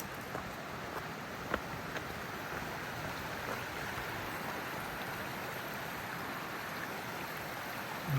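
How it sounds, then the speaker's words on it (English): Mill Creek flowing strongly along a hiking trail, a continuous close rushing wash of water that holds steady throughout, with one small knock partway through. "I'm going to cross over Mill Creek, which seems to be flowing pretty good"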